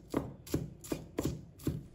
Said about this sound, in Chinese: 把它切小粒。